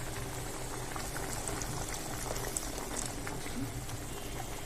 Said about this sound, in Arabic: نسيبه بقى يغلي شويه وبعدين ايه نوطي عليه